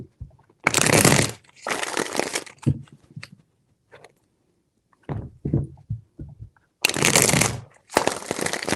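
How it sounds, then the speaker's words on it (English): Tarot deck shuffled in short, crisp bursts of papery riffling and shuffling, close to the listener, separated by quiet gaps with scattered soft taps and card handling in between. "Four shuffles."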